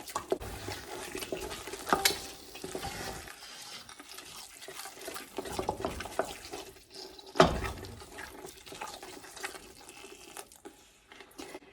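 A spatula scrapes and stirs thick spaghetti sauce in a pot, with wet, soft swishing strokes and occasional louder scrapes against the pot, moderately quiet and close.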